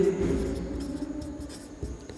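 Chalk or marker strokes on a classroom board during a Class 12 biology lesson on nucleic acids, a steady scratchy scraping with short taps, close and alone with no talk.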